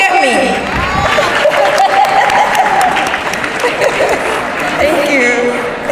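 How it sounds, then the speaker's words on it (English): A crowd at an official opening ceremony claps steadily and loudly, with cheers and voices mixed into the sustained applause. "And a round of applause for me."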